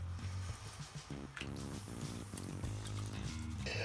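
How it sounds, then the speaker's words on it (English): A plastic G1 Apeface Transformer toy is scrubbed in hot soapy water, with continuous wet squishing, sloshing and dripping sounds up close, quiet and steady throughout. "I'm trying to remove the stickers by using some hot soapy water"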